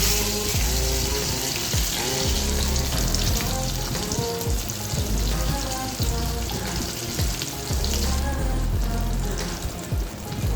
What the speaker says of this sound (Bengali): তো দেখো বন্ধুরা, আমার মাছ প্রায় ভাজা হয়ে এসেছে।